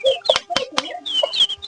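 Chickens clucking and cackling close by, several short overlapping calls in quick bursts with no one talking.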